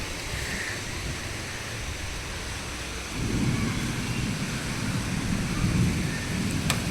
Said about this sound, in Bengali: মারাত্মক ঝড় উঠেছে, সাথে বৃষ্টি নেমে গেছে।